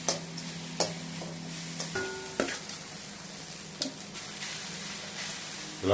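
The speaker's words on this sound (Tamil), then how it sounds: "இது கொஞ்ச நேரம் வதங்கணும்." A spoon stirs a mango mixture for mango rice in a pan, which hisses with a steady low sizzle. Sharp scraping clicks land every second or so, close and fairly loud, and no one speaks.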